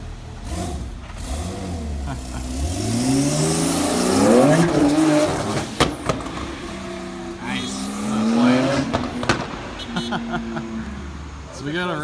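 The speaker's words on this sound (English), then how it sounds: "They got this beautiful 991, like 800 and some horsepower to the engine." Porsche 991 tuned to about 800 horsepower revs inside a workshop, its engine pitch sweeping up and falling back in two loud bursts with sharp blips between, while people talk around it.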